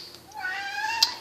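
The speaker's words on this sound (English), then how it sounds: "You hear her meow?" A cat gives a single drawn-out meow, close and clear, rising and then trailing off over a quiet room background.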